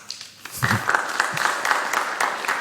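Brief burst of audience applause in a university lecture hall, a scattered clapping that rises quickly and holds steady for about two seconds at moderate loudness.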